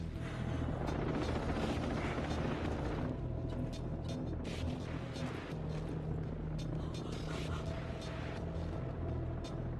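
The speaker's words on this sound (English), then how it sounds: "Only the helicopter now." A helicopter in the video game Ghost Recon Breakpoint gives a continuous low, churning rotor rumble, steady and fairly distant-sounding, with no speech over it.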